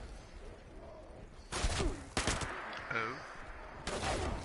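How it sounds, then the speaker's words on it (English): Short bursts of gunfire from a fire-effect legendary SMG in Fallout 76, three or four quick volleys spaced apart, moderately loud over a quiet game background, with a brief voice between them. "It's a fire SMG."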